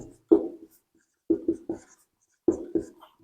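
Writing on a board in a quiet classroom produces short scratchy strokes in small clusters, separated by brief pauses, close and clear.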